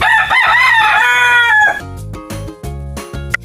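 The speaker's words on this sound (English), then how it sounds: "Rooster." A rooster crows one long, loud, close cock-a-doodle-doo, followed by a few short clucks and farmyard noises, with no talking.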